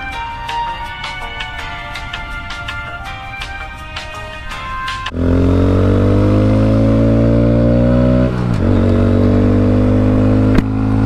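A 2020 Honda Grom fitted with a 14-tooth sprocket and gold chain runs at a steady idle, then revs up hard and climbs, with a brief dip before pulling again. The engine is loud and close, with no talk.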